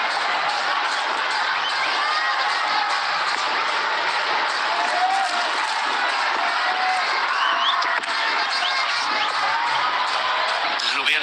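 A large cricket stadium crowd at an India vs Sri Lanka T20 match, a dense continuous roar of cheering and whoops from far off, with commentary talking over it.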